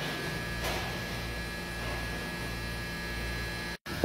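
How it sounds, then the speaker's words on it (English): A refrigeration compressor runs after its high-pressure switch is reset, giving off a steady, unbroken electrical hum at moderate level with no talking. "Reset, and my compressor is now started."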